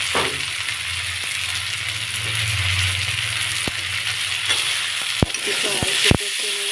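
Oil sizzles steadily in a pan as chopped tomato, grated ginger and slit green chilies go in for an egg curry with dal fritters, punctuated by a few sharp utensil clinks and taps near the end.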